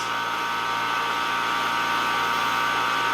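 Electrical discharge through xenon gas at partial vacuum, a steady, loud electrical buzz with a strong whining tone and a low hum underneath, continuous and unchanging from start to finish.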